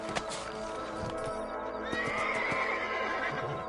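A horse whinnies amid hoofbeats and busy Red Dead Redemption game ambience, a drawn-out neigh rising over the clatter before fading.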